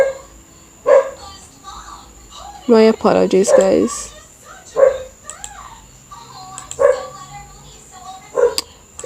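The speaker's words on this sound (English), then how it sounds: "what is wrong with this dog?" A dog barks in short, loud bursts spaced several seconds apart indoors, with one longer run of yapping, while a person speaks briefly between the barks.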